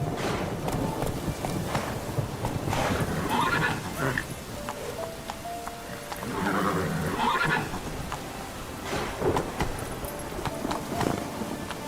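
Roach, Geralt's horse in The Witcher 3 video game, neighs in loud whinnying bursts between galloping hoofbeats, with a voice calling out over the game sounds.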